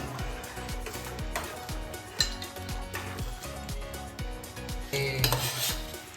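Egg rice frying in a pan with pepper powder, a steady clatter of a utensil stirring and scraping against the pan under a faint sizzle, with a few louder metallic clinks.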